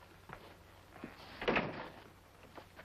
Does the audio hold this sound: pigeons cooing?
no